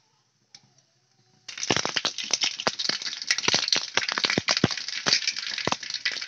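Mustard seeds spluttering in hot sesame oil for a lubika pickle: after a short quiet moment, a dense, continuous crackle of sharp pops erupts close by and keeps going.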